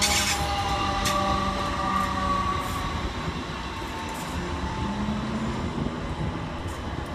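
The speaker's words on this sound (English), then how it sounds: "321, 337 and 321, 329 arrive with the 2009 Greater Anglia service from London Liverpool Street to Ipswich" Two coupled Greater Anglia Class 321 electric units roll into Stratford station on a Liverpool Street to Ipswich service, a continuous loud rumble of wheels on rail with faint squeals and clicks.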